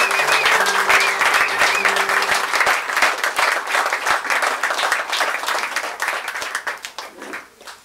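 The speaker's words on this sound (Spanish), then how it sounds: "le das un aplauso fuerte al Rey de Reyes y Señor de Señores" A church congregation applauds loudly during a Sunday worship service, sustained dense clapping with some voices and a brief sung or held tone early on, fading slightly toward the end.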